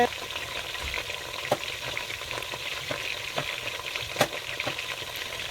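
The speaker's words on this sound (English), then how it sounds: "in our pan, we have 2 big onions and 2 cups of oil on the fire" Two big onions frying in red oil in a pan for a spinach and plantain stew, a steady close sizzle with scattered pops and crackles throughout, no voices.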